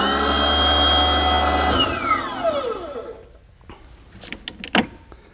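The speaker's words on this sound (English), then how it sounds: "Now I have a manual lowering valve right at the base of the machine that's operating properly." An access platform lowers through a manual lowering valve at the machine base, a loud hydraulic whine that slides down in pitch and stops, followed by scattered clanks and knocks.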